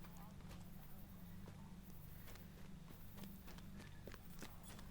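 A horse's hooves clip-clop as it is ridden through a video game town, making a faint, rhythmic patter of hoof beats over a constant low background hum.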